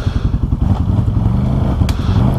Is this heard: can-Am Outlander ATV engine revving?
yes